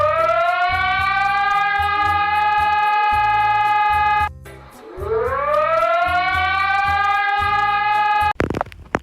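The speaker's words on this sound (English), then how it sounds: "Next, we're going to do is Brazil's alarm." Brazil's emergency alert siren wails loudly in two long rising-and-holding cycles, a steady multi-tone howl over a pulsing low buzz, briefly dropping out midway before climbing again, then cutting off abruptly.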